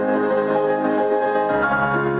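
An experienced pianist plays a dense, sustained run of notes with rich overlapping harmonics and pedal, heard close and moderately loud with no voice over it.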